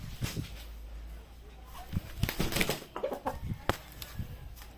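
Bull stag gamecock, about a year and seven months old, giving short clucks and rustling, close by, with someone talking over it.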